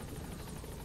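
Helicopter in the video game Metal Gear Solid V, a steady low rotor drone with dense broadband noise, constant and fairly faint, with no voices.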